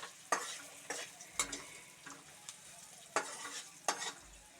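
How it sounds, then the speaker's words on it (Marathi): Sushila chivda, a puffed rice snack, is stirred in a frying pan, with repeated scraping strokes of a spoon over a soft continuous sizzle, heard close and alone without talk. "सुशीला चिवडा करतोय."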